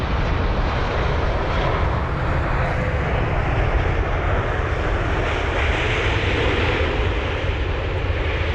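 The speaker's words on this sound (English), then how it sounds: "here's a WestJet 787 from Calgary" WestJet Boeing 787 jet from Calgary at London Heathrow, a continuous loud engine roar with deep rumble, steady and unbroken for the whole stretch, no voices over it.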